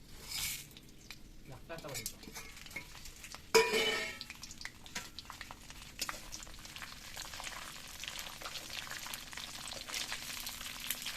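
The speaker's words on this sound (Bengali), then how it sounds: "তা আমি ফোড়নে দিয়ে দিলাম হালকা তেল গরমে" Cardamom pods crackle and sizzle in lightly heated oil for a meat curry, a sharp burst of spitting when they hit the pan, then a steady frying hiss with a voice speaking over it.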